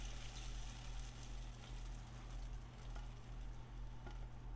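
Vanilla caramel sauce being stirred in a hot pan off the heat, a steady soft sizzle and bubbling hiss with faint scraping throughout, no talking.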